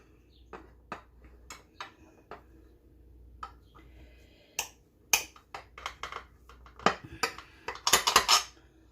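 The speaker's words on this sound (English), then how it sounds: "Now, I'm going to split this into 4 servings. And cut down into those crispy cookies." A knife or fork taps and scrapes through the crisp cookie crust of a chilled no-bake key lime pie, scattered sharp clicks at first that grow into a denser, louder crunching cluster near the end.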